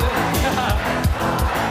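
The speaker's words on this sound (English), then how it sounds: "You can hear the crowd so loud" Large live concert crowd singing and cheering loudly along to a song, a dense chorus of voices over a pulsing rhythmic beat.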